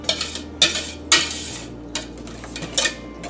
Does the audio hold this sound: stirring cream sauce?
yes